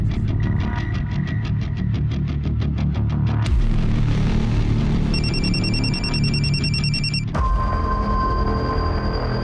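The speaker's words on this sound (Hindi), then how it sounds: "किसका फोन है?" A telephone rings loudly with rapid repeating electronic trills, then shifts to different ringing tones over a steady low hum, in a Hindi TV crime drama.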